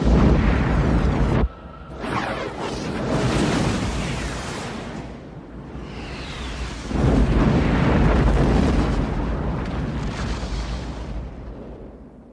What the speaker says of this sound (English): Picard gets up just in time to see the rocket launch toward the sun.